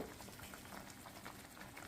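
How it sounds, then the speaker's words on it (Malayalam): Soft, continuous bubbling and popping of a thick masala for egg roast simmering in a pan, quiet and close, with no voices. "മസാല ഏകദേശം തിളച്ചു."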